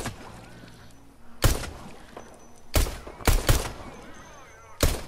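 Four or five sharp, loud gunshots in Fortnite ring out at irregular intervals, two coming in quick succession, over quiet game ambience.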